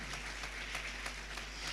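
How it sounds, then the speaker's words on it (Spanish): Applause from a church congregation, a steady wash of many hands clapping at a distance, quiet and even throughout without any talking over it. "Dele un aplauso al Rey, vamos."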